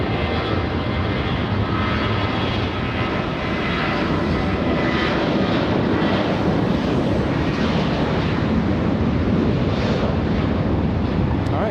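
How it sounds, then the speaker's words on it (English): A JetBlue Boeing 737 with CFM56 engines spools up to full power at an airport, a loud, steady jet roar with broadband rushing noise and some wind buffeting, no voices over it. "CFM 56 engines powering up at full power on that 737."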